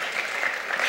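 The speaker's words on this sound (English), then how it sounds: "I think that deserves a little applause." A brief burst of audience applause in a church gathering, dense and fairly loud, already underway and still going when it cuts off.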